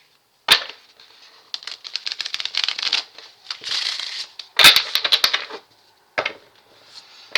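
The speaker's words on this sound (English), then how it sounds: "I got to shuffle it a lot because of the air." A deck of cards shuffled hard and repeatedly by hand, close and loud, with sharp rapid riffling bursts and snapping clicks separated by short pauses, no talk.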